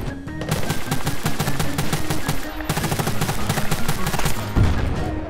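Dense automatic gunfire from the video game Battlefield: Bad Company 2, rapid bursts running nearly nonstop with a brief gap midway, loud and close, mixed with game noise and a faint voice.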